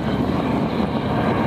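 A quiet propeller airplane at an air show glides past with its engine near idle, giving a steady, soft broadband drone that holds evenly throughout with no voices.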